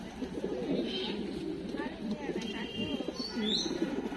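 Imported-line pigeons, including chocolate grizzle males, coo softly and repeatedly at close range while someone talks over them throughout.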